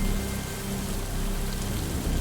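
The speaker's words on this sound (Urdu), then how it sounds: "پھر اچانک طوفان کی شدت میں اتنا اضافہ ہوا کہ درختوں کے ٹہنے ٹوٹ ٹوٹ کر گرنے لگے۔" Heavy storm rain as a horror story sound effect, a dense, steady, loud wash of falling drops with no gaps or voices throughout.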